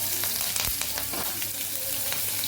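Dried red chillies sizzle steadily in hot oil with a few sharp crackles and pops, close up and unbroken, with no talking.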